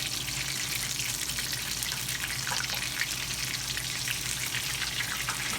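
Tempura-battered cod frying in hot oil gives a steady, dense crackling sizzle, close and continuous throughout with no voices.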